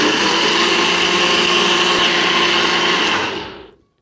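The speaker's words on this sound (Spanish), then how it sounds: "Tapamos y batimos." A blender runs loud and steady on a banana and passion fruit smoothie for over three seconds, its motor whirring evenly, then winds down to silence.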